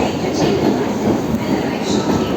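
A suburban train heading to Beach station in Chennai rumbles and clatters steadily at close range, with a continuous loud roar of wheels on rails and faint squeals over the top.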